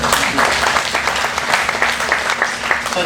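Applause from an audience of workers at a Chevron safety stand-down milestone event, steady dense clapping for about three seconds with a low hum underneath.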